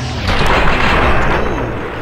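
Gunfire from an M1A1 paratrooper carbine in Fallout New Vegas, fitted with scope and silencer: a loud, dense burst of booming shots over about two seconds, with no talking.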